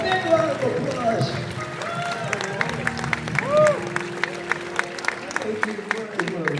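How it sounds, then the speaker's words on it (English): A crowd applauds with scattered clapping over a busy room, voices talking and murmuring throughout. "A big round of applause."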